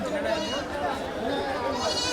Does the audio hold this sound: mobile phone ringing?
no